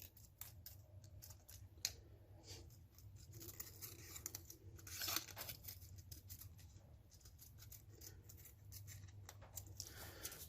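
Scissors cut paper for a six-inch firework can shell, giving soft, quiet snipping and rustling close by with a few sharper clicks, steady and without talk.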